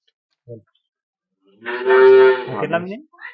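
A bull on an HF cow dairy farm in Banaskantha lets out one long, deep moo that rises and then trails off, loud and close, after a brief soft knock in an otherwise quiet pen.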